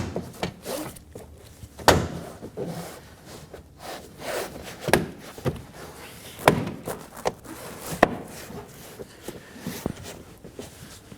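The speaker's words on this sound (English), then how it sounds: "Push down the clips on all sides." Plastic clips on a Toyota Corolla door panel being pushed into place, giving a series of irregular sharp snaps and thumps over soft handling rustle, close and fairly quiet.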